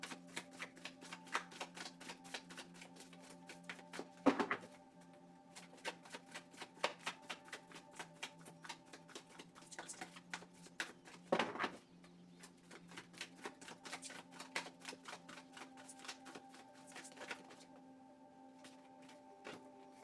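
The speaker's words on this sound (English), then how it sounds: "I'm going to start shuffling your cards." Tarot cards are shuffled for a long stretch, a quiet, rapid patter of riffling and tapping with a few louder snaps, close and alone, under a faint steady hum.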